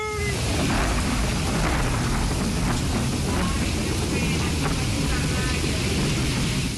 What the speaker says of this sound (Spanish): El fotógrafo Gabo Harper mientras grababa la tormenta con su cámara y teléfono, logró capturar el momento exacto en que cayó un rayo